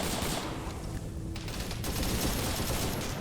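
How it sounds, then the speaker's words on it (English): A dense burst of rapid automatic gunfire fires warning shots during a large Vietnam War multiplayer operation with the 1st Infantry Division, loud and continuous as overlapping shots blur into a sustained roar. "The warning shots to let them know what's coming."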